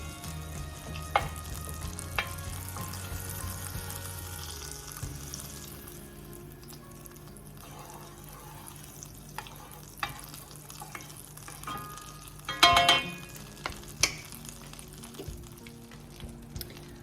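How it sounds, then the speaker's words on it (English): Chicken breasts sizzle steadily in a hot skillet with garlic and lemon, with occasional stirring scrapes and clinks of a utensil against the pan. "you hear that sizzle?"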